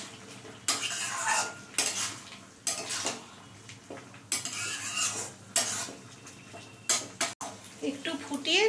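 Lentil fritters are stirred together with ridge gourd and potato curry in a pan, with repeated scraping and clinking of a utensil against the metal under a faint sizzle.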